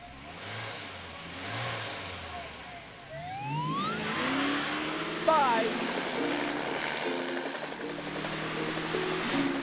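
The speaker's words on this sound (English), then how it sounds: "Are you chasing that over-speeding car?" A cartoon race car revs and speeds away with a rising engine whine and a whoosh, under overlapping speech and other vehicle noise.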